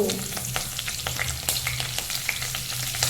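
Cloves, peppercorns, cinnamon and curry leaves crackle and sizzle in hot oil for tempering, with a steady frying hiss and scattered pops, close up, and no one speaking.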